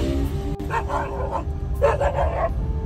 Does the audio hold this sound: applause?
no